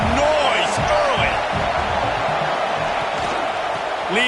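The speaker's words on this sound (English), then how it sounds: "This crowd bringing the energy and noise early." Crowd at a college football game in a stadium, a loud, constant wash of cheering and noise, with a commentator talking over it and scattered whoops rising above.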